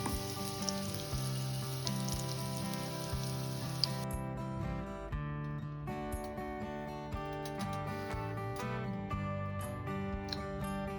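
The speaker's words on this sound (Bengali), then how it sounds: "আলুটা আমাদের অলমোস্ট ভাজা হয়ে এসেছে, আর একটুখানি ভেজে এটাকে নামিয়ে দেবো।" Potatoes frying in a pan of oil for a Bengali jackfruit curry, a steady close crackle and sizzle running unbroken, with a brighter, busier spatter in the first few seconds and no voices.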